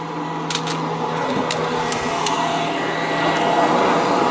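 A steady, loud whirring motor drones continuously as a Black & Decker garden vacuum cleans an artificial lawn close by, with faint scraping ticks over the constant roar.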